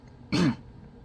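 One short, quiet cough or throat-clearing, close by, then near silence.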